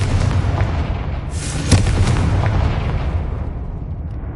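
A Confringo blasting spell explodes in a Harry Potter video game, a loud sustained rumbling boom with a sharp burst near the middle that slowly fades away.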